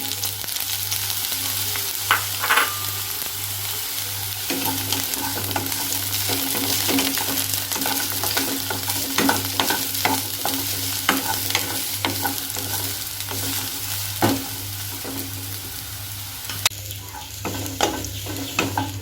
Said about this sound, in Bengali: এবার এই তেলেই বেগুনগুলো ভেজে নেব।